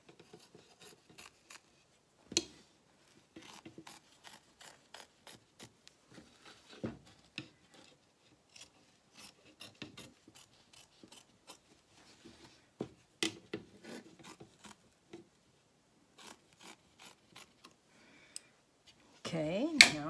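Scissors trim quilt batting for an embroidered placemat in short, scattered snips and rustles over about twenty seconds, close and fairly quiet, with soft handling noises between cuts.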